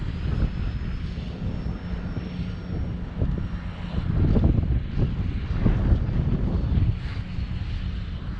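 A Hawker aircraft engine drones loudly and continuously in gusty wind, with heavy wind buffeting on the microphone swelling and fading over the engine noise.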